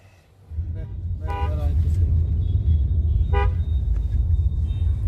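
A car rumbles along the road with a steady low engine and road drone, while short car horn toots sound from nearby traffic and people talk.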